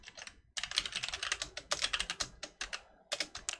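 Close, rapid typing on a computer keyboard produces a dense patter of clicky keystrokes. One brief pause breaks the flow, and no one speaks.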